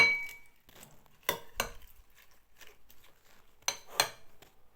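Utensils mixing a salad with peanut sauce in a bowl, giving a few scattered clinks and knocks with quiet pauses between them, soft and close.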